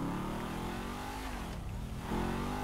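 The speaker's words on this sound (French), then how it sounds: "on entend bien le gros moteur qu'elle se tape" The big engine of a Massacro sports car in GTA 5 runs steadily and loud, a dense droning rev that dips briefly and then swells again, with no talk over it.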